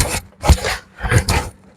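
A spindle gouge cuts a spinning piece of wood on a lathe, giving loud rasping, scraping passes in a rough repeating rhythm, close and alone.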